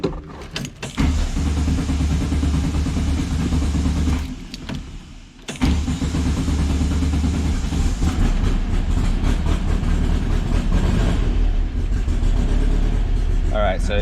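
A 1961 VW Beetle engine fitted with an electric fuel pump idles steadily, running only on fuel left in the carburetor bowls. The low drone dips briefly near the middle and then resumes.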